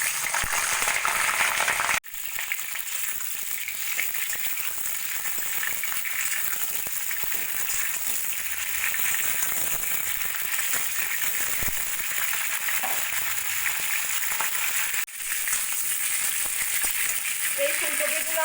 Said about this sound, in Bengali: কড়াইতে তেল দিয়ে দিয়েছি, তেলটাও গরম হয়ে গেছে। এবার আমি ফুলকপিগুলোকে ভেজে নেব।